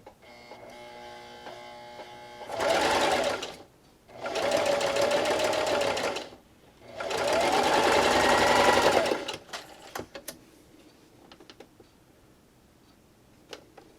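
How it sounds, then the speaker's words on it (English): A sewing machine runs a straight stitch in three loud bursts of steady mechanical whirring with short pauses between, followed by quieter clicks and handling noises. "Alright, so I'm over here at my sewing machine. Today I'll be using a straight stitch"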